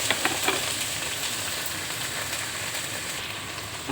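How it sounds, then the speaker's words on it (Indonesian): Okra (bindi) fries in a pan with a dense, steady sizzle and crackle, loud and close, with no talking over it. "Harus digoreng dulu ya supaya nggak lengket-lengket ya bintinya ya"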